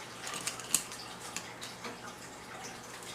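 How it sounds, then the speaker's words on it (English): Metal parts of a Para Ordnance Hi-Cap 1911 pistol being handled as the barrel bushing goes back in, giving a few light close clicks and taps with one sharper click among quieter handling noise. "let's put the bushing back in here."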